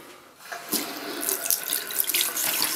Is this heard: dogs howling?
no